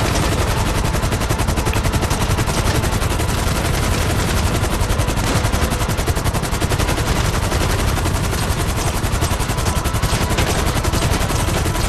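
Relentless automatic gunfire from Grand Theft Auto V, a dense, loud stream of rapid shots with no pause, filling the whole stretch at close range.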